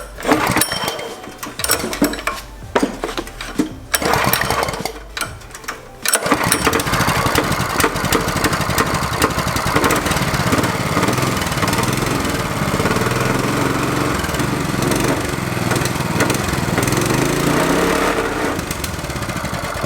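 A mini bike's small engine is pulled over in several short bursts, then fires and keeps running with a steady, close buzzing drone.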